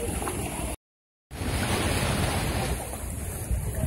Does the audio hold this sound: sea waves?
yes